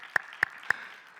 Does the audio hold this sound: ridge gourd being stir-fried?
no